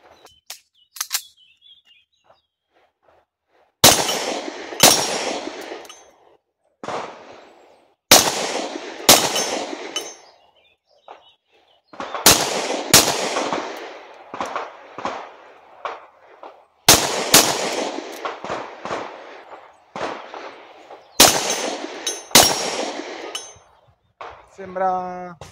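Tanfoglio pistol shots at a 15-metre range, about a dozen sharp loud cracks spaced a second or two apart, each followed by a brief ringing echo.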